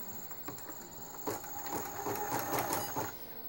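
A Husqvarna Viking #1+ embroidery machine stitches with its embroidery unit, a quiet, rapid mechanical chatter of the needle that builds and continues steadily at close range.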